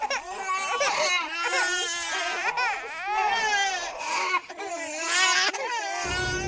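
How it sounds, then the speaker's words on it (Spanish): Several babies crying together as a horror sound effect, overlapping wails and whimpering sobs rising and falling continuously, close and steady for several seconds. "comenzó a escuchar por toda su casa el llanto de varios bebés."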